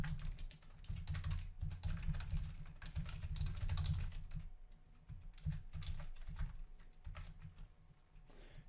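Rapid, steady keystrokes on a computer keyboard as a billing address is entered into customer management software, close and continuous for several seconds, then thinning into sparser taps, with no voice present.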